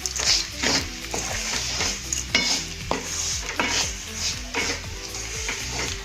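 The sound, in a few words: stirring pahadi daal in a pot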